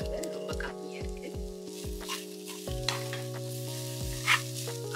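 Grated coconut being stirred and sautéed in a pan for a dumpling filling, a soft sizzle with scraping spatula strokes under a steady tonal hum from the kitchen, close and fairly quiet.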